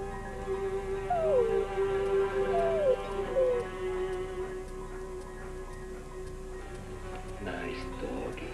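A dog lets out high, wavering howls and whimpers over the first half, rising and falling in pitch, then fades out against a steady background hum while a person talks.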